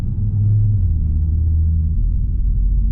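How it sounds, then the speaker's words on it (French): Low, steady rumble of a 2019 Audi RS3's five-cylinder engine, loud and close, holding a deep even drone for a few seconds with no one talking. "J'aime vraiment beaucoup cette sonorité de 5 cylindres comme ça."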